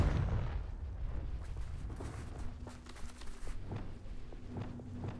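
Confringo fire spell blasts in the Hogwarts Legacy video game, a series of muffled booming explosions with rumbling low-end bursts and scattered crackles, no talking.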